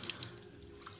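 Quiet, steady flow of water from a Delta faucet with its filter screen removed, flushing sediment from the lines into a sink, with faint splashy trickling heard nearby and no talking.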